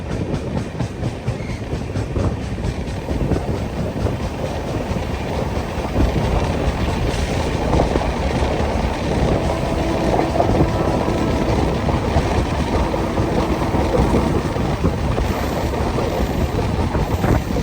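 Kakinada to Nagercoil train pulling out of a station, giving a steady, loud rumble of rolling rail cars and wheels that runs without a break for the whole stretch.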